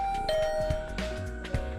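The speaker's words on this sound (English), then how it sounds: "Better ring the bell first." A doorbell chimes in The Hundred Line video game, a clear ringing tone over game background sound.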